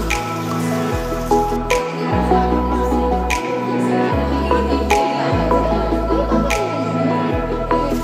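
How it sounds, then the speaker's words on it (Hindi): Heavy rain drips and splashes steadily over a repeating low rumble, with occasional sharp taps, close by and fairly loud, at a campsite. "it's raining heavily"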